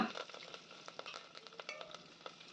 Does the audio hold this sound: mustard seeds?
yes